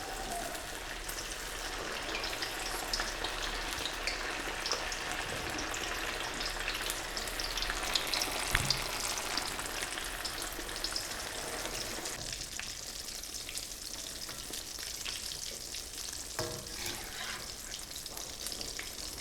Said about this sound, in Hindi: अब हम इसको डीप फ्राई करेंगे।